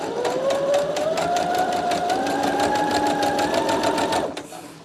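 A home sewing machine runs at a steady fast stitch, its rapid even needle clatter under a rising motor whine, close and loud, then it slows and stops near the end, with faint talk in the background.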